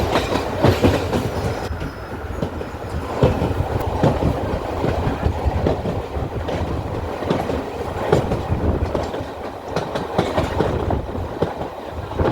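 A passenger train running on the Tenkasi–Kollam line toward Sengottai, heard from aboard as a loud, continuous rumble with rhythmic clickety-clack of wheels over rail joints and faint wheel squeal.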